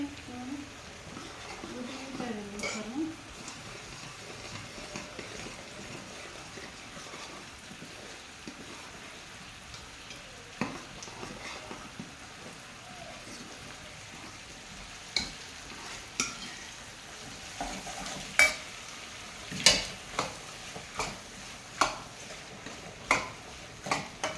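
Fish curry simmers in a pot with a low, continuous bubbling and crackle. Scattered ticks and small pops grow more frequent toward the end, while a person speaks now and then.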